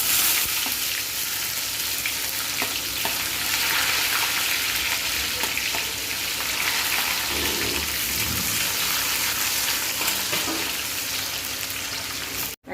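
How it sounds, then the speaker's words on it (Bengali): Chopped onion frying in hot oil with a pinch of asafoetida for tadka dal, a steady, loud, dense sizzle running unbroken from start to finish with no voices. "পেঁয়াজ কুচি দিব।"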